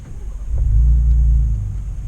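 A 2018 Ford Raptor truck engine cranks and fires, settling into a loud, deep, steady low rumble at close range with no talking.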